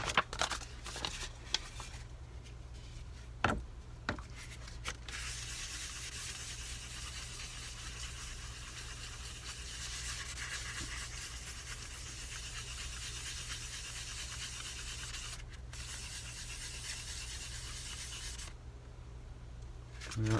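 Fine wet sanding on the top of a resin photo cube with very fine grit paper, a steady close scratchy rubbing in small circles that continues almost without a break.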